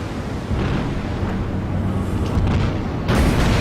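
Heavy battleship shell impact in World of Warships as a Myogi-class battleship lands a citadel hit on the carrier Langley: a deep rumbling boom that swells and sustains for a few seconds, with a second burst near the end.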